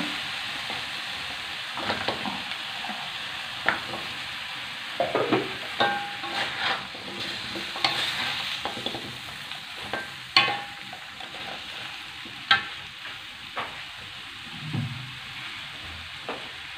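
Salted fish frying in a pan with vegetables for a bitter gourd chili curry, a steady sizzle broken by repeated scraping stirs and clinks of the spatula.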